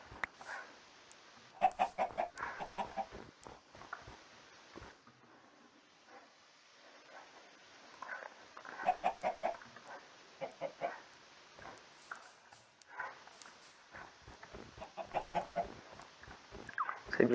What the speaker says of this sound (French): C'est bien, il y a un gang de poulets.